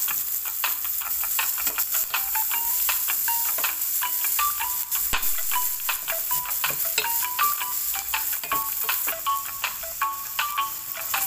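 Onions sautéing in a pan for adobong pusit, a steady sizzling hiss that runs through the whole stretch, with scattered small ticks and pops rising over it at close range.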